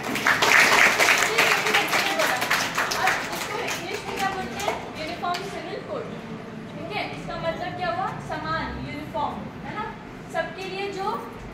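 Schoolchildren in a classroom burst into a loud round of clapping that fades after a few seconds, followed by children's voices and an adult talking.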